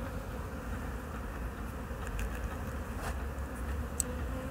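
Honeybees in an open beehive give a low steady hum and buzz, close and quiet, with a few faint ticks and clicks and no speech.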